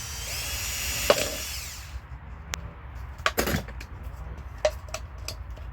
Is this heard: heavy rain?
no